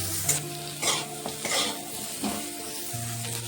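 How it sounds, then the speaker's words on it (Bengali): Eggplant seasoned with salt and turmeric fries in oil in a pan, a steady close sizzle broken by several scraping stirs of a spatula, with no talking. "এখন বেগুনটাকে ভালো করে ভেজে নেব"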